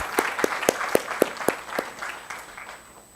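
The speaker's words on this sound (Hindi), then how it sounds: "जोरदार तालियों से उनका इस मंच पे स्वागत किया जाए प्लीज।" Audience applause welcoming a speaker on stage at a literature festival session in Bhopal: a loud, fairly steady burst of sharp, rhythmic claps that thins out and fades over about three seconds, with no talking.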